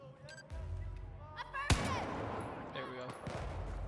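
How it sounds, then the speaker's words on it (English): A single sharp, heavy gunshot or blast from the Battlefield 4 campaign cuts through, followed by a rumbling battle wash, while a voice speaks nearby. "Oh, they shooting."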